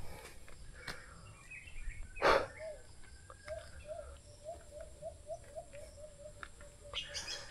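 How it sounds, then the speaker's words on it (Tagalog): Faint, repeated bird chirps ring out in a steady series over quiet outdoor ambience, with one brief louder noise partway through. "Tingnan natin yung ibon."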